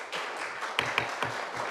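Audience members clap in a city commission meeting room, a short, sparse patter of a few hands with uneven claps, fairly faint and distant, with little else heard.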